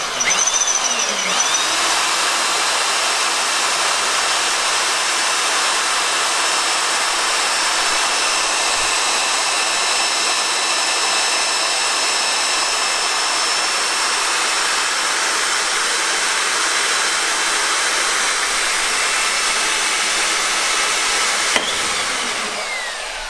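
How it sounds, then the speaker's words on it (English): A power drill with a drill bit works on the upper radiator support of a flood-damaged Pontiac, giving a loud, unbroken high whine and hiss for about twenty seconds with no talk. "That is the best drill bit I have ever used in my life."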